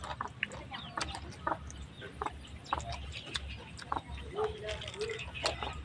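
A chicken clucks in short, scattered bursts near a meal of grilled chicken and spicy papaya salad, with clicks and a voice talking in between.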